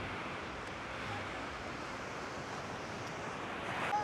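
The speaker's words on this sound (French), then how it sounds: "les vagues sont quand même bien ici" Ocean waves break on a beach in Indonesia, a steady, fairly faint wash of surf with a slight swell near the end and no voices.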